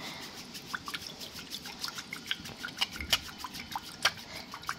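Curd being whisked by hand in a bowl for lassi, a steady run of small wet slaps and drips repeating in a loose rhythm, close and fairly quiet.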